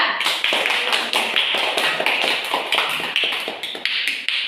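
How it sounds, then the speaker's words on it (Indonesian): A classroom of students claps together for a presenting group, dense steady applause lasting several seconds before tapering off. "Kasih tepuk tangan bersama kelompok 2"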